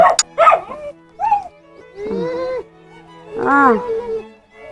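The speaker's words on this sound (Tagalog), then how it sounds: "May bantay pala dito, mga aso." Several guard dogs yip and whimper in short bursts, with a couple of higher whining barks, fairly close and clear against a quiet rural background in Nueva Ecija, Philippines.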